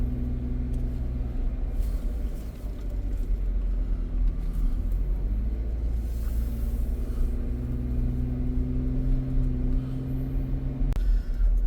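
A car climbs a mountain road in the Smoky Mountains above Dollywood, heard from inside as a steady low engine hum and road rumble that continues throughout with little change.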